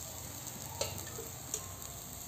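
Oil in a pan gives a quiet, faint sizzle while the base for a Khandeshi mutton rassa curry fries, with a couple of soft clicks from stirring and no one speaking.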